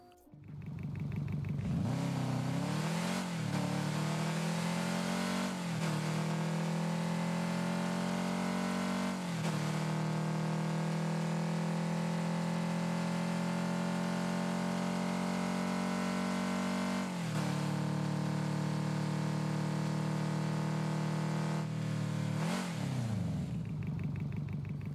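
Engine of the Hot Wheels Fast 4WD car in Rocket League, a loud continuous drone that revs up repeatedly with short shifts and dips, steady and alone with no talk.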